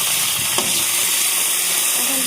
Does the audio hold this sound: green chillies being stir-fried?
yes